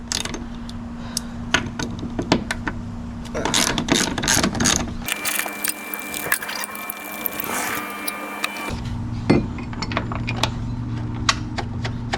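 Ratchet wrench turning a 13 mm bolt while a CB radio mount is fitted under the dash of a Bronco, with rapid clicking bursts and pauses and a steady hum in the background.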